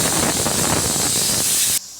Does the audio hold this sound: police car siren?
no